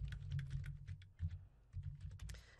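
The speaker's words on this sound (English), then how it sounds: "the chat is as simple as typing to this box down" Rapid, fairly quiet keystrokes on a computer keyboard, typing into a chat box in irregular bursts with short pauses and no voices.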